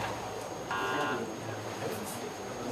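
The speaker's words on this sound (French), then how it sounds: "Donc le système de buzzer" A quiz tablet buzzer system under test during a live quiz contest, giving a brief steady electronic tone with harmonic bands that lasts about a second, set against room noise and murmuring.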